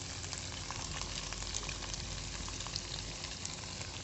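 Pasta Goreng with tomato sauce just added sizzles and fries steadily in a pan, a close, constant crackling hiss with tiny pops throughout and no talking.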